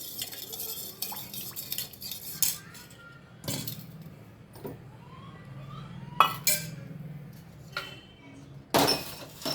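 A spoon stirs and clinks against a pot to dissolve sugar in ragi malt, with intermittent sharp metallic taps and scraping amid quiet kitchen background, fairly close and moderately faint.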